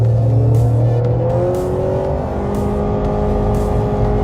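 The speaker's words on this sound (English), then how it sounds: "See how it hangs? That's yeah, CVT." A 2018 Honda CR-V AWD with a CVT floored in econ mode, engine drone holding steady revs while it accelerates, loud and close from the cabin with no talk.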